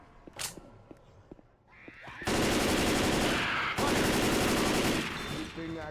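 Heavy automatic gunfire from the Xbox 360 game Left 4 Dead 2, Dead Center campaign: loud, dense, continuous bursts that break briefly and resume, following a few sharp single shots amid quieter game noise.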